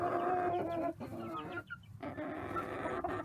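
A flock of young chickens of mixed breeds, including American Bresse, Blue Ameraucana, Bitterroot Blue and Orpington, clucks and chatters nearby in overlapping bursts with short pauses, no talking.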